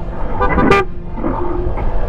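A single car horn honk sounds near on a mountain road, a short toot rising over steady engine and road noise in the moving vehicle.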